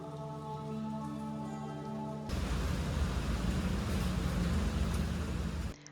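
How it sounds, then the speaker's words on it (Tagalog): Heavy rain falls in a steady, loud broadband roar that begins abruptly partway through, preceded by a quieter hum with tonal lines, and cuts off near the end. "sobrang lakas ng ulan"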